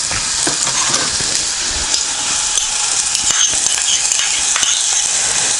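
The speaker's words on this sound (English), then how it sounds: "Just putting in my onions." Onions frying in hot oil in a pan produce a loud, dense, continuous sizzle with occasional crackles and light stirring taps.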